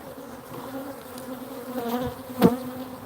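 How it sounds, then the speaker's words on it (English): Honeybee buzzing at the hive, with a drone bee walking on the frame end; a steady close insect hum runs throughout, swelling to a brief louder buzz near the end, with no talk. "bee walking around there on the end."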